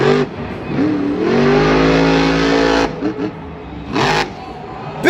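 Monster truck engine at a Monster Jam event in Anaheim, a loud, close, sustained roar that rises and holds, then drops and revs again in bursts, with crowd and arena noise around it.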